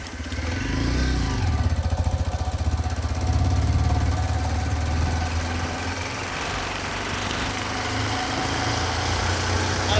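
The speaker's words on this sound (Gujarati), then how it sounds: "મારો ભાઈબંધ ફોર્મમાં બાઇક ચલાવે છે તમે જોઈ શકો છો" A motorcycle ridden along a road drones with a steady, close engine hum that rises slightly in intensity around the middle and carries on without pause.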